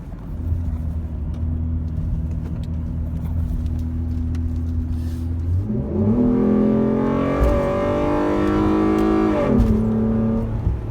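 A 2013 Ford Edge's exhaust heard from inside the cab in sport mode: a steady low drone that rises sharply as the engine revs hard, holding a loud climbing roar before easing back.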